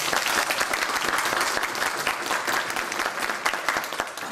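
Lively hand clapping from a gathered crowd of townspeople at a local municipal event, steady and dense with individual claps audible, near and continuous for several seconds.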